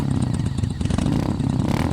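A motorbike engine runs steadily at close range, its low throaty rumble revving unevenly and continuously through the whole stretch, as if ridden along a forest road at night.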